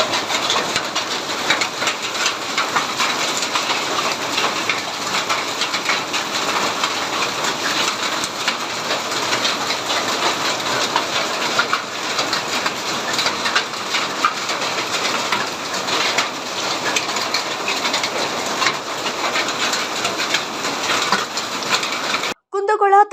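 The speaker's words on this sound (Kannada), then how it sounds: "ಮಳೆಯ ಜೊತೆ ಆಲಿಕಲ್ಲು ಸುರಿದ" A heavy hailstorm with rain pours down on a village in Kundagol taluk, Karnataka, making a dense, continuous hiss and patter that stays loud and unbroken for over twenty seconds.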